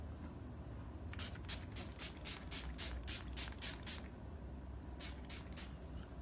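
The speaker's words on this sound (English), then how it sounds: "Saya spray dulu muka saya." Makeup setting spray misted onto a face, heard as a quick run of about ten short hissing spritzes, a pause, then three more, close and fairly soft over a quiet room.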